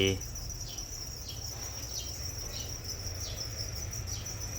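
Crickets kept in a plastic rearing bin chirp in repeated short, high trills at a steady pulse, close and clear over a soft low background hum.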